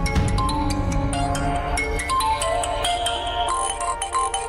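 A phone ringtone plays for an incoming call, a bright looping electronic melody sounding continuously and fairly loud throughout, with no voices over it.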